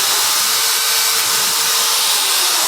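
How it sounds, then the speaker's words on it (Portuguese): An electric drill fitted with a 6 mm wood bit bores a hole, giving a steady, loud high-pitched whine that holds without a break from start to finish, with no voices. "Com uma furadeira, uma broca de madeira de 6 milímetros."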